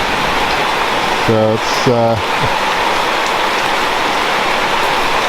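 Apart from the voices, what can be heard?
tropical rain in wet season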